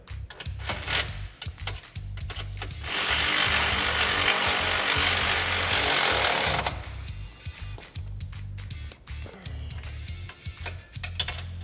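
A power tool tightens the A-arm bolts on a Can-Am Commander side-by-side. A loud, steady whirring burst lasts a few seconds mid-clip, with quieter clanks and shop sounds before and after, and no one talking.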